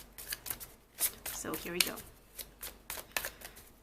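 Tarot cards are shuffled in quick, irregular riffling bursts close to the microphone while a voice speaks briefly over them.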